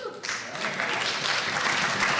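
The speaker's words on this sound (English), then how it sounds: "That definitely deserves some applause." An audience at a gala bursts into applause, a dense wash of steady clapping that stays loud and full from start to finish with no voices rising above it.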